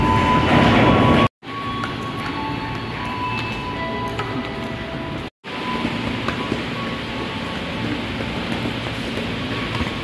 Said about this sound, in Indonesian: KRL ini sudah datang terlebih dahulu